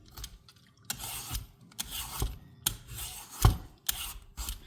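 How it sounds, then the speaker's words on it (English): A peeler scrapes the skin off a butternut squash in a kitchen: close, rasping strokes repeating in an irregular rhythm, about seven swipes with short gaps and a firmer knock near the end, no talk. "I just peel the skin"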